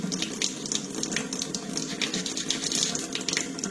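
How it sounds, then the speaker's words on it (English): Warm tap water runs steadily over stripped models being rinsed after stripping with cleaner, a loud, continuous splashing flow with no talk. "rinse it with warm water, and then you let it air dry on the towel right there"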